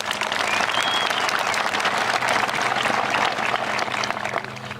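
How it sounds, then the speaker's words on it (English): Sustained applause from a large audience at a high school graduation ceremony, a dense, steady clatter of clapping hands that holds throughout and eases slightly at the very end. "give them a round of applause"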